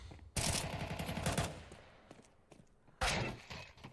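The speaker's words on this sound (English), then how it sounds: "Jersey hears these bullets" Two loud bursts of rapid automatic gunfire in a competitive match of a first-person shooter at a Fragadelphia 18 tournament, the first rattling for about a second before fading, the second cutting in sharply near the end.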